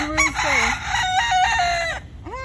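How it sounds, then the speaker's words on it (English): A rooster crows nearby outdoors in Key West, Florida, loud and clear, with a second short crow starting at the end. "flying rooster."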